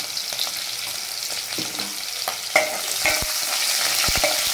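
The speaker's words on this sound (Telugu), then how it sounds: "ఫ్రై కానివ్వాలి" Green chillies, onion and curry leaf powder fry in a pan for Telangana-style fish curry, a steady hiss of sizzling oil with scattered crackles and a few sharp stirring knocks near the end, with no talk.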